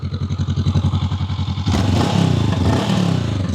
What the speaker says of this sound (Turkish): Bakın arada bir pat pat sesi yapıyor.